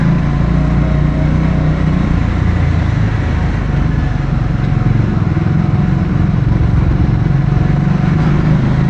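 Motorcycles, including a Royal Enfield Himalayan 450, Triumph Scrambler 400X and KTM 390 Adventure, riding through back streets: a loud, steady engine drone with rushing wind noise, continuous and close throughout.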